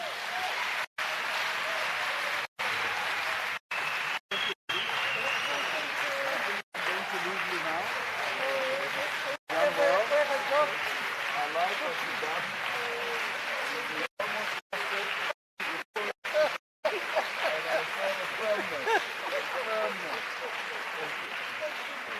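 A large audience at a presidential summit on gender-based violence applauds steadily, the clapping dense and sustained with some brief gaps.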